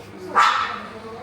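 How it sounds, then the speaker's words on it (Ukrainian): A single sharp dog bark rings out close by, short and loud over a low, steady background hum. "А моя собака орет."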